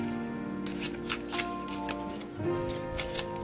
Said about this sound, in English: So let's do the first shuffle.